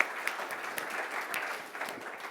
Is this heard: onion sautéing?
no